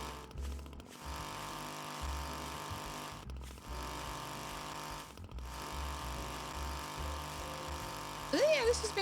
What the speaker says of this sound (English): Strimmer.